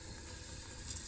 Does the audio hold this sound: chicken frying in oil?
yes